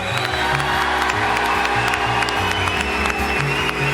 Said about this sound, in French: Applaudissements pour Raoul, mesdames, messieurs.